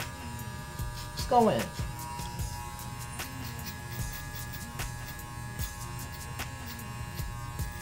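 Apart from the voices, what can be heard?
electric hair clipper cutting hair for an undercut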